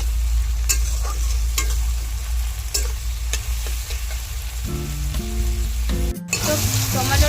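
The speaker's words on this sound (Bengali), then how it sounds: "এবার একটু টমেটোটা গলিয়ে নেব। গ্যাসটাকে হাই ফ্লেমে দিয়ে নেব।" Tomatoes sizzle loudly in a pan over a high gas flame, a steady dense frying hiss broken by regular stirring scrapes, with a few brief tonal beeps near the end.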